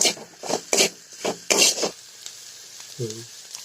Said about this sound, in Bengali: আমাদের মশলাটা ভাজা হয়ে গিয়েছে